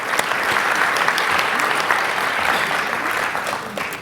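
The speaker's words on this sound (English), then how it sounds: "Let's give her a big round of applause" Loud, dense clapping from the audience at the 2019 IHF Awards Ceremony greets the incoming CEO and President of the American College of Healthcare Executives, holding steady before easing slightly near the end.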